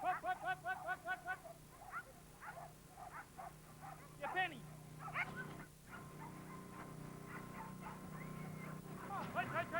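Working sheepdogs on an Australian sheep station bark and whimper in short repeated bursts, fairly close, with background voices and outdoor ambience.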